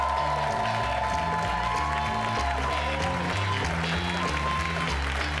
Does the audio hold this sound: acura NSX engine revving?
no